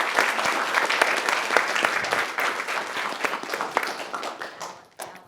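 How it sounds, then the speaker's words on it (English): An audience in a performance hall gives dancers Felipe and Joan a sustained round of dense applause, which fades gradually toward the end. "Let's give another round of applause to Felipe and Joan,"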